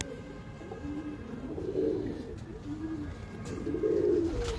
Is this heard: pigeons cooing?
yes